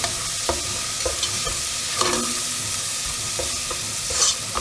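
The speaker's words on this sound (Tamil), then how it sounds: "அது கொஞ்சம் வதங்கட்டும். இஞ்சி பூண்டு பேஸ்ட் நல்லா வதங்கி வாசம் வந்துக்கிட்டு இருக்கு." Ginger garlic paste sautéing for crab masala sizzles steadily in a pan, with a string of scraping, clicking stirs from a utensil close by and no voices.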